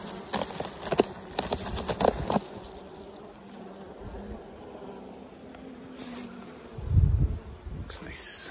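Young honey bees in a British Columbia hive box buzz in a close, steady hum, with a few sharp knocks and thumps of the box being handled near the start and a low thud later.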